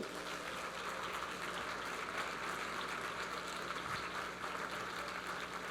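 Sustained applause from an audience at the launch ceremony for Polytechnique Montréal's 150th anniversary, a steady dense wash of clapping that holds at an even level throughout.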